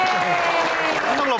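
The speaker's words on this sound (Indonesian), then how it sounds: "tepuk tangan buat dia" An audience at a live Q&A event claps in a brief burst, with voices cheering and talking over the applause.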